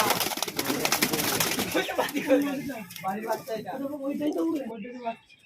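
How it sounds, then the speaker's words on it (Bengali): Flying pigeons coo in low, throaty bursts while someone talks over them close by. "এগুলো সব ফ্লাইং এর কবুতর"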